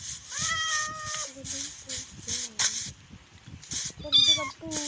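A cat in Minecraft meows repeatedly in the game, the meows clear and fairly loud, layered with a person talking throughout.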